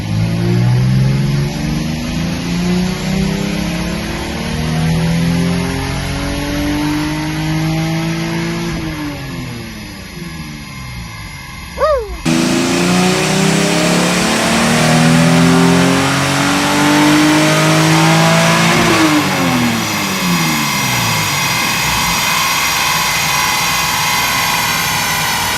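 A car engine revs hard and climbs through the gears, loud and close, with rising pitch sweeps, a brief drop at a shift midway, then another strong surge of acceleration.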